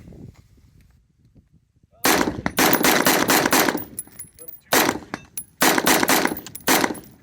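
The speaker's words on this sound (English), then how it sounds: "we'll just do a little mag dump for the rest, I guess" A .223 rifle fires a rapid magazine dump outdoors: sharp, loud cracks in quick strings and clusters with brief pauses between bursts, after a quiet start.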